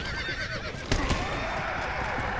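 A horse whinnies once in Red Dead Redemption: Undead Nightmare, a short burst midway through the clip over steady game ambience and background noise.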